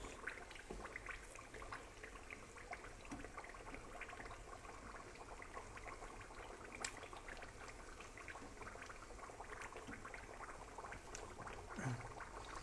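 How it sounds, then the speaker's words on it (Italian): Turdilli, Calabrian fried sweets, bubble in hot oil with a faint, steady sizzle and scattered small crackles that run on evenly with no talking. "Qua stanno continuando a friggere."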